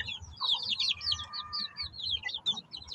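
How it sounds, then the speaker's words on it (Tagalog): Native chicken chicks about a month old chirp in a dim coop, a steady run of high, quick peeps close by over low background rustle. "Yan na yung ibang pasisiw natin."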